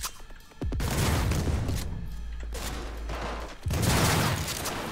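Gunfire in the video game Cyberpunk 2077: loud booming shots open the clip, then a sustained low rumble of continuous firing, with a fresh heavy burst near the end, no talking.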